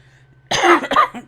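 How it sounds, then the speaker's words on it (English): A short burst of coughing, two or three harsh rasping coughs close to the microphone, after a quiet moment with a low steady hum underneath. "I thought I was over my coughing fit, but it feels like the same cough still"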